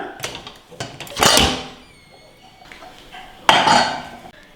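Metallic clatter of a pressure cooker lid being handled and lifted after the pressure has released, with two louder clanking bursts and softer knocks between them, close by.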